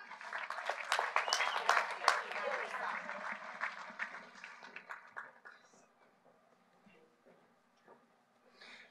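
An audience at the Murphysboro High School Class of 2023 graduation ceremony applauds the top 10 graduates, with dense clapping building strongly and then tapering off into scattered claps and quiet.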